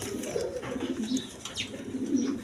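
Two male pigeons coo close by in a series of soft, throaty low calls with short gaps between them, and no voice is heard.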